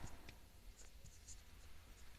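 Steady scratchy strokes of writing on a board during a set theory lesson for a class 9 math lecture, continuous and close with soft tapping marks, no talking over it.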